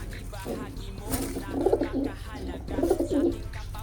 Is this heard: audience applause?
no